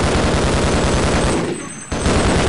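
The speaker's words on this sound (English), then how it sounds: "Are you shooting with the thing coming out of your chest?" Rapid, continuous gunfire from an alien's chest-mounted weapon in the 1998 video game Half-Life, loud and dense, with a brief drop near the end before the firing resumes.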